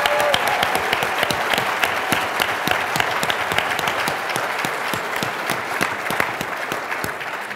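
A crowd applauds steadily, dense clapping filling the whole stretch at a constant, fairly loud level without letting up.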